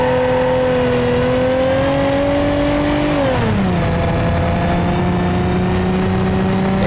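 A Police Interceptor's 3.2 liter V6 revs loud and steady in BeamNG.drive, its pitch holding high before falling back to a lower idle-like drone partway through, with no talk.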